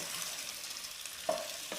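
Snack mix is stirred through a hot tempering in a pan, producing a steady faint sizzle with a soft scrape near the end, close and without voices.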